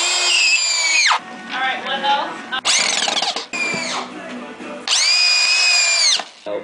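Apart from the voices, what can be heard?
power drill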